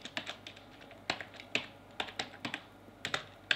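Python code is typed on a computer keyboard as a quick, irregular run of close, crisp key clicks with short pauses between bursts, and no talking.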